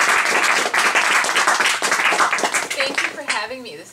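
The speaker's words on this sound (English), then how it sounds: "we should open with a great big applause for Leckie" Enthusiastic clapping from an audience fills the room, gradually thinning out as voices begin to speak over the fading applause.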